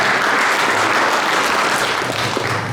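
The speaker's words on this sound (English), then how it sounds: "Give him a round of applause" Loud, dense applause from a school crowd welcoming a drummer, steady clapping filling the whole moment.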